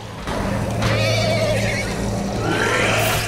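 A horse in The Walking Dead video game lets out a loud, drawn-out whinny that rises and trails off over a few seconds, heard up close with some ambient game noise behind it.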